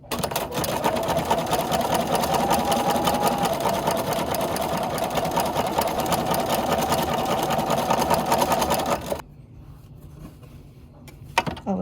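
Sewing machine running steadily as it stitches a quarter-inch seam on a quilt block, a fast even mechanical whir close by that stops abruptly near the end, leaving quiet room tone.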